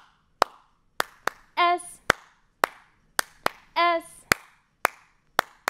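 Hands clap sharply about a dozen times in an uneven rhythm, counted along in a children's storytime reading rhyme, close and loud, with two short spoken syllables between the claps.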